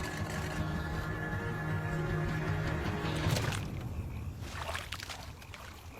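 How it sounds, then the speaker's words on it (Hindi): A small boat moves slowly across water toward an island in crocodile country, with a steady low hum and light water wash, then a louder splashing rush near the end. "ऐसे इस आइलैंड की तरफ धीरे धीरे नाव चलाना डरावना लग रहा है मुझे"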